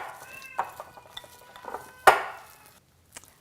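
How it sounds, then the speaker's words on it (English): A utensil mixes dried cranberries, cilantro and green onions into a soft cheese-ball mixture in a bowl, giving scattered clinks and scrapes, one sharp knock against the dish, then a short near-silence. "Just gonna add that all in and mix it together."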